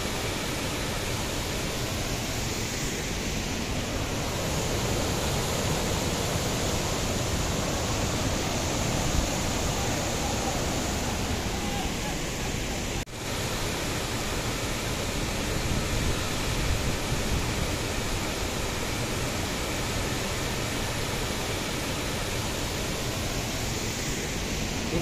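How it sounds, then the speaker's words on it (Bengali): Borhill waterfall in Meghalaya pours down with great force and throws up mist, filling the whole stretch with a dense, unbroken roar from close by. "ঝর্ণার জলের গতিটা মারাত্মক তীব্র। জল ওপর থেকে এত জোরে পড়ছে যে পুরো জলের কুয়াশা তৈরি হয়ে গেছে।"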